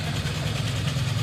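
An old museum-class car engine runs steadily at a low, rumbling idle, close and continuous with no pauses or revving.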